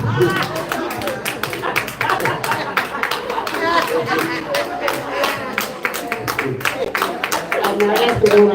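Applause from a comedy show audience, dense rapid hand clapping mixed with laughter and crowd chatter, close and sustained throughout.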